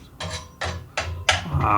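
Sheet metal is hammered by hand with a big hammer during a Triumph Spitfire 1500 restoration: four sharp, ringing blows at an even pace, close and loud, with clanking afterward.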